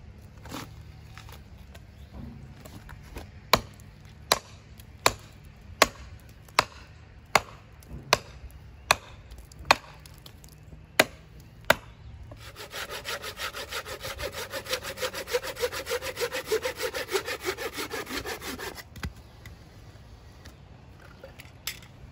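Saw cutting through a damp oak branch crotch, a dozen sharp isolated strokes followed by about six seconds of steady rapid back-and-forth sawing, close and clear with no talking.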